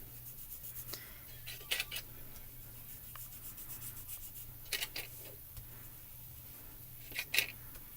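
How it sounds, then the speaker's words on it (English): Shine being rubbed onto the edges of a paper craft card: faint, close scuffing strokes in short scattered bursts over quiet background hiss. "Just take a little bit of that and just going to rub that on there."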